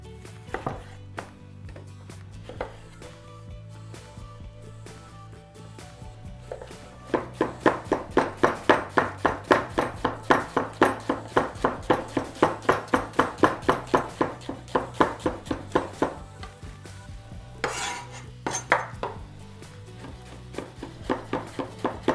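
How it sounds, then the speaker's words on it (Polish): A knife slicing four onions into thin slices on a board, starting with sparse cuts and then settling into a rapid, even run of sharp close chops over a low background hum. "Cebuli użyję cztery sztuki i będę je kroił w piórach."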